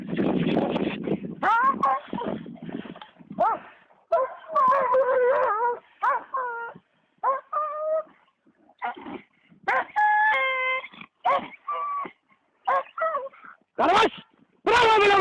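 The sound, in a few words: Kangal dog fighting Caucasian shepherd dog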